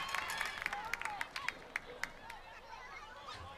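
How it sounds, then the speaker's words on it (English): Fans at a high school Cougarettes soccer game clapping and cheering faintly from a distance, a string of sharp claps over crowd murmur that fades toward the end. "Fans cheering on the Cougarettes"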